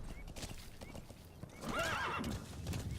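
Video game horse hooves clip-clop in a steady trot on a road with a horse whinnying partway through, close and clear over a faint ambient background.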